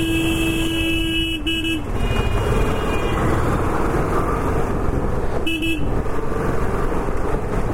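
A car drives through city traffic in Darbhanga, India, with a steady engine and road rumble and two horn honks, one long and one short, sounding close by.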